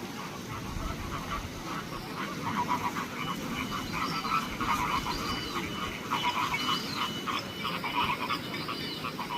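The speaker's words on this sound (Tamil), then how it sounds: "குருவி சத்தம் எப்படி கேட்குது பாருங்க." Sparrows at Beauval zoo in France chirp in a dense, continuous chorus. The busy twittering carries at a steady level over an outdoor background hum, without talking.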